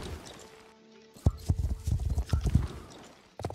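Galloping hooves of a horse, likely a Haflinger, in a horse-riding video game set around Jorvik: a brisk, rhythmic clip-clop, fairly close and steady after a quiet opening moment.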